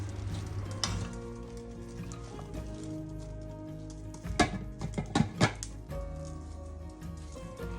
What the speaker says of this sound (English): I'm just basically steaming or stir frying this silverbeet and garlic for a little bit until it wilts down a bit